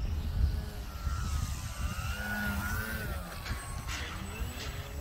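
A radio-controlled model airplane flies high overhead at a flying field, its small engine whining with a shifting pitch over steady wind noise.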